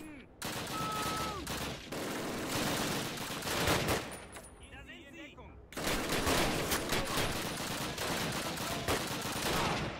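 Dense bursts of rifle and machine-gun fire in a Call of Duty World War II battle, loud and close, rattling almost nonstop with a short lull in the middle, while someone talks over it.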